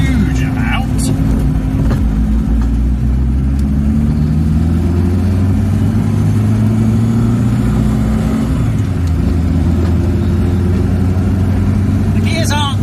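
A Reliant Robin with a small engine drones steadily while driving, a loud low-pitched hum with shifting tones as revs change, heard from inside the car throughout, with a few faint clicks and knocks.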